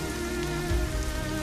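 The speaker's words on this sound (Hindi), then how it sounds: "बारिश और तेज हो गई थी।" Heavy rain pours down in a dense, continuous hiss of drops on surfaces, loud and close throughout, with a brief deeper rumble midway and no voices.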